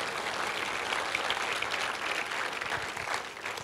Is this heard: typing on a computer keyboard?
no